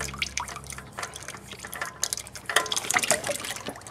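Engine oil from a Nissan X-Trail drips off a freshly removed oil filter into a bucket, giving irregular liquid drips and patters that grow busier toward the end, close by with no talking.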